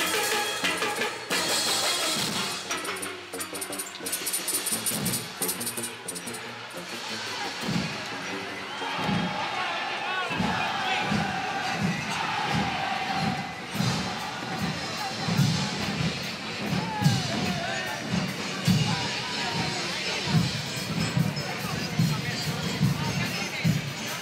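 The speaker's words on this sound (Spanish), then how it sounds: "y aplausos para ellos" A crowd at the Badajoz carnival parade in 2020 cheers and applauds, a loud mass of clapping and shouts at first, then rhythmic thumps and hubbub with voices mixed in.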